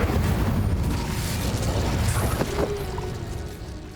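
Incendio fire spell cast in Hogwarts Legacy, a loud close whooshing burst of flame with a deep rumbling body that roars at the start and slowly fades over several seconds.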